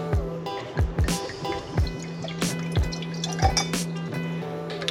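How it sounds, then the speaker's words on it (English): Soju poured into a glass with ice for a grapefruit soju and watermelon juice cocktail, a soft continuous trickle broken by small clinks and drips, close and fairly quiet over a low hum. "And then we're going to pour in our soju."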